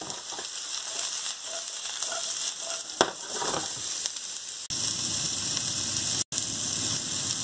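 Carrots, onions and other vegetables sizzling loudly in a hot frying pan, a steady crackling hiss with occasional stirring clatter and a couple of abrupt jumps in level.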